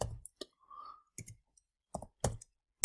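Crisp computer mouse clicks ring out in a quiet room while editing in GIMP, a few sharp isolated clicks spaced apart with a brief faint hum between them, close and alone.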